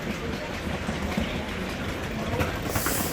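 A train rumbling at Samarkand railway station in Uzbekistan, a steady loud broadband roar of rolling rail cars filling the whole moment, with no voices standing out.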